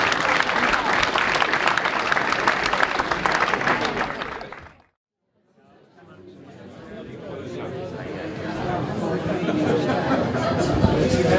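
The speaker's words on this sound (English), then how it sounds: "Give them a round of applause, and we'll be back shortly." Audience applause for a speedway evening event, a loud dense round of clapping with crowd chatter that cuts out briefly near the middle and then returns more broadly and slightly softer.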